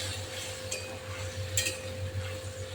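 Pointed gourd pieces are stirred in a pan with turmeric and salt, soft scraping and clinks over a low sizzle, with a couple of brief brighter scrapes, fairly quiet and close.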